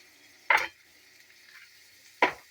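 Celery stir-fried in a pan for a hoisin pork and vegetable dish, with two short, sharp bursts of sizzling stirring set apart by a quiet pause, close and fairly loud.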